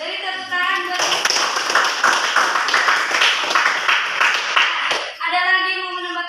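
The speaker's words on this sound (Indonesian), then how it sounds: "Beri tepuk tangan buat." A classroom of students claps together during a physics lesson on kinematics, a dense burst of applause lasting about four seconds, sandwiched between a teacher talking before and after.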